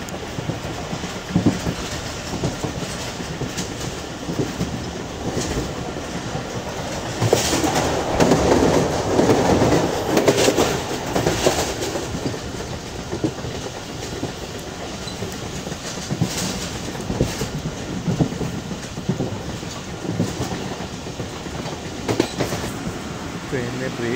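The Jaffar Express rolls on the rails between Lahore and Gujrat with a loud, continuous rumble and clickety-clack from inside the carriage as it slows down, and a voice talks over it now and then.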